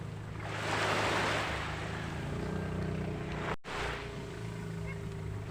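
A motorboat's engine hum drifts over steady sea wash and wind as it approaches, holding at a moderate distance with a brief dropout midway.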